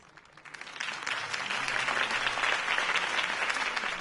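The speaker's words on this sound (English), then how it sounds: "If only Mr. Wayne, my campaign's largest backer, could have heard that applause" Steady crowd applause in a Batman video game swells quickly and holds, a dense wash of clapping with no voices standing out.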